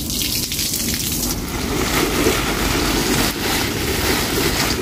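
A garden hose waters vegetable plants on a balcony garden, giving a steady broadband gush and spray of water that holds at an even, fairly loud level throughout, with no talking.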